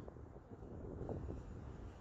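Wind buffets a microphone outdoors during a Pilates class, a steady low rumbling roar with soft rustling that lasts the whole moment, with no voices over it.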